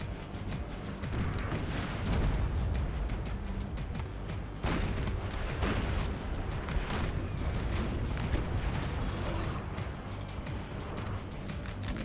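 Three 8-pounder cannons of the Spanish side fire in a Napoleonic battle in Napoleon Total War, heavy booming blasts rolling over continuous battlefield din and scattered musketry, loud and dense throughout.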